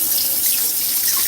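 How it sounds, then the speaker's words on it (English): Kitchen tap running steadily while a spoon is rinsed, a close, continuous splashing hiss of water with no speech. "I'm just gonna rinse the spoon off"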